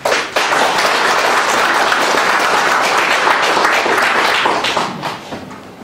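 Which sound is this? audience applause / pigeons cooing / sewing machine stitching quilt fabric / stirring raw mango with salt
audience applause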